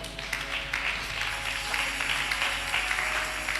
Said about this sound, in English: I thought someone should clap.